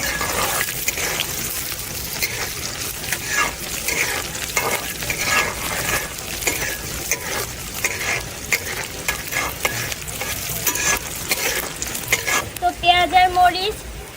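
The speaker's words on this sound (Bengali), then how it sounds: "তো এবার আমি ভালোভাবে একটু নেড়ে নিব আর বাদামি কালার পর্যন্ত অপেক্ষা" Chopped onion and green chili fry in oil with a steady crackling sizzle, broken by frequent rhythmic scraping strokes from a stirring utensil. A brief spoken phrase comes near the end.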